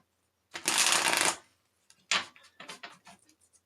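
Close riffle of tarot cards being shuffled, one long burst followed by a few shorter, softer shuffles and taps.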